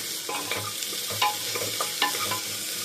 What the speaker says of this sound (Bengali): নুন দিয়ে আরও একবার জিনিসটাকে নেড়ে নেব